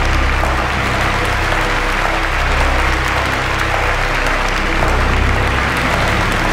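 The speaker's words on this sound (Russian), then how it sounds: "Аплодисменты." Steady, dense applause from a large crowd in the video game Virginia fills the whole stretch, loud and continuous with no pauses.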